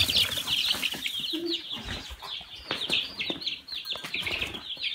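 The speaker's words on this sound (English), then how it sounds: "We got loose chickens everywhere." Loose chickens on a homestead cluck and squawk continuously with bursts of wing flapping, busy and close throughout.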